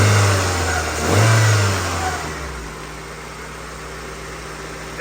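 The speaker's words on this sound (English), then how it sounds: "It actually sounds like an MX-5 motor." A four-cylinder car engine, sounding like a Mazda MX-5 engine, revs loudly close by, surging once more before easing back to a steady, lower rumble.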